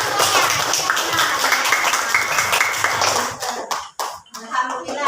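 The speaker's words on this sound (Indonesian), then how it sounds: "Tepuk tangan semuanya." A classroom of students claps their hands together in a sustained, dense burst of applause that fades out and gives way to scattered, uneven claps near the end.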